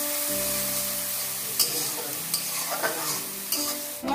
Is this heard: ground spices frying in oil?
yes